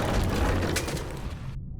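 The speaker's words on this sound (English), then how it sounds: "The explosions didn't affect the room." Explosions rumble through a 20,000 Leagues: The Shape of Fantasy game scene, a dense low boom with a bright burst near the middle, cutting off abruptly at the end.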